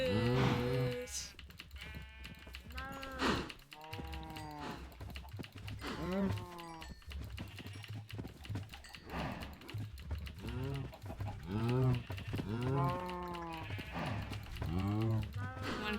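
Cows mooing in the Minecraft video game, repeated drawn-out moos at irregular intervals from several animals over clicking keyboard typing, with a voice talking underneath.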